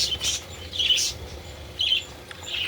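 Parakeets chirp in a breeding cage, a few short, bright tweets in quick bursts, close and fairly soft over a quiet background.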